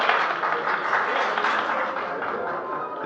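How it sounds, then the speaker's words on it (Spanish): Steady crowd applause in a Spanish radio drama set in ancient Gades, a dense, even wash of clapping filling about three seconds without any voices. "Los aplausos fueron iniciados por los partidarios de Benasur a una señal del joven Marcho Rutilio."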